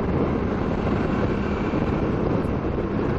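Heavy, constant wind roar buffets the microphone while a rider cruises on a 2008 Suzuki V-Strom 650 motorcycle, a dense low rumble filling the whole stretch with no speech.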